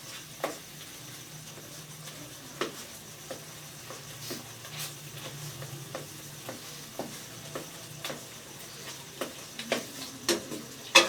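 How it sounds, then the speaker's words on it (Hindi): Softened onion and tomato masala for chicken karahi stirred and sizzling in a pan, a quiet low sizzle under a steady series of light spatula taps and scrapes, nearby and fairly soft. "इसे अच्छे से मिक्स करेंगे"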